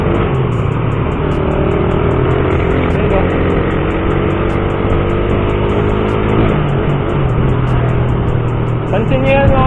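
Motorcycle engine running with a misfire and weak pull, a continuous loud rumbling idle with uneven pulsing and a brief rev change partway through, recorded close up without speech.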